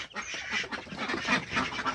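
Ducks on a poultry farm quack and honk in a busy overlapping chorus, several birds close by calling continuously.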